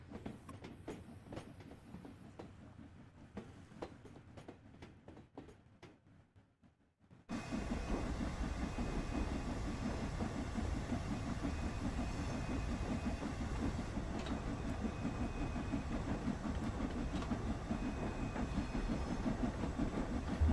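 A steam special train on the West Coast line running at speed, heard from on board: a steady rumbling roar with rail clatter that swells sharply after a quieter, muffled start, continuous and close.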